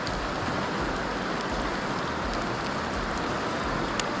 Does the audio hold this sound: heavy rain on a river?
yes